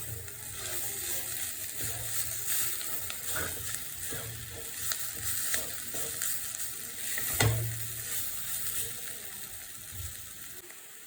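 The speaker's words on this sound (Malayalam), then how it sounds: "ഇളക്കി യോജിപ്പിക്കാം." Jackfruit seed thoran sizzles and fries in a pan while being stirred, with steady close crackling and scraping strokes throughout and no talking.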